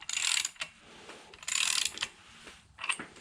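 A rebuilt LS 6.0 engine is turned over by hand, making two rasping, ratcheting sweeps of mechanical clicking followed by a shorter third burst, close up and quiet, with no talk.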